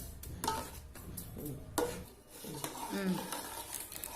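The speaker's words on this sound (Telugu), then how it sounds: "ఇక పిండి పోసి మంచిగా కలుపుకోవాలి." A spoon stirs rice flour into batter for ariselu sweets in a metal pot, giving close, irregular scraping and clinking strokes with soft thumps, fairly quiet and with no talk.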